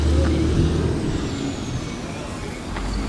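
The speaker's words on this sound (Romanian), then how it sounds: "vine autobuzul." A city bus pulls up on a Havana street, its low engine rumble steady throughout, with a brief air-brake hiss near the start and another toward the end, amid busy street traffic noise.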